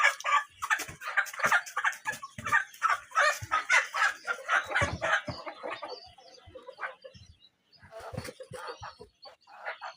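Adult Bahama roosters clucking, a close flurry of rapid overlapping clucks and short calls that thin out into scattered clucks toward the end.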